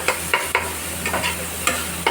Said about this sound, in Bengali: বেশ ভালোই ভাজা ভাজা হয়ে এসছে মশলাটা